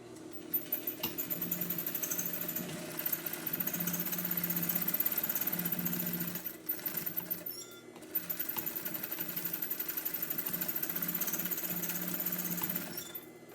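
A sewing machine stitches laminated cotton for a bag in two long runs of rapid mechanical chatter separated by a brief pause, close and fairly quiet, with no voices.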